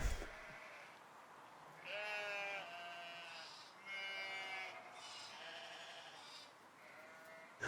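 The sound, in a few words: sheep bleating outside a recording studio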